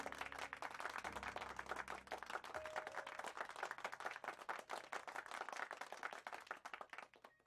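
Short bursts of applause play during a chess study stream, a crowd's dense clapping that stays steady throughout.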